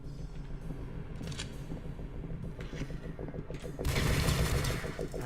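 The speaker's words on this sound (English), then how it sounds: "Oh, my shots missed." Gunfire comes from the video game This Strange Realm of Mine: a handful of muffled shots over a low rumbling background, with a longer, louder noisy burst near the end.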